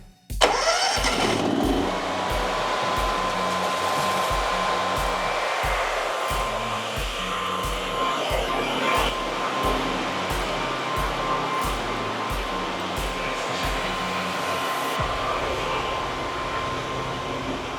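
A generator at an off-grid hunt camp near Mt St Helens cranks, catches and settles into a steady, loud running drone with a regular pulsing thump, heard close and alone.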